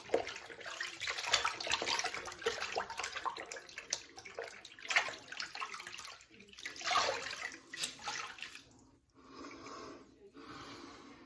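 Tap water runs and splashes while someone rinses off after a straight razor shave, with uneven gushes and spatters close by, easing to softer trickles near the end and no talking.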